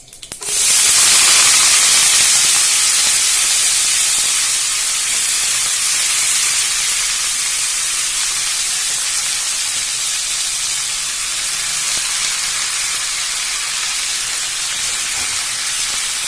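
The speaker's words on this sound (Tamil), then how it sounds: "அலசி வச்சிருக்கிற கீரையை ஆட் பண்ணிக்கிறேன்." Washed spinach greens hit a hot pan for keerai kuzhambu and burst into a loud, sustained hissing sizzle that starts abruptly and holds steady, easing only slightly over time.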